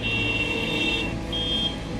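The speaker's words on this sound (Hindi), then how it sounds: "ट्रैफिक जाम में हॉर्न।" Car horns sound in a traffic jam: sustained, shrill tones, one stopping and another starting, over a low rumble of idling traffic.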